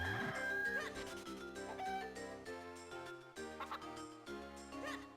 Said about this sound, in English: I think one of them did run into the pen just because I heard the crow